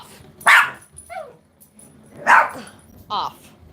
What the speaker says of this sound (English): Their bark is different when they see just regular people walking without a dog